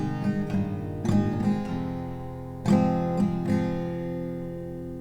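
Acoustic guitar strumming the chords of a song in a steady rhythmic pattern, close and clear, with several accented strokes and ringing chords between them.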